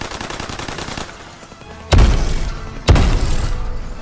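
Decoy pistol fire in Call of Duty WWII Prop Hunt: a rapid ticking burst of distant shots, then two loud, close gunshot blasts about a second apart, each trailing off into a rumbling tail.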